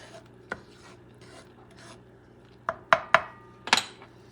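Dried beans stirred in a pot, with soft rasping scrapes followed by a cluster of sharp clattering knocks of the utensil against the pot.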